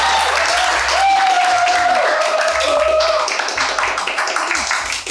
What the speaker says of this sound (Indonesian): Kita tepuk tangan dulu, kita aplaus untuk narasumber.